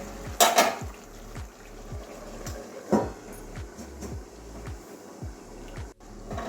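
A metal lid clatters onto a pot of Hilsa fish head and Malabar spinach curry, with two sharp clanks over a steady low sizzle of frying and faint stirring, no voices.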